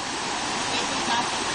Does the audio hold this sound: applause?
no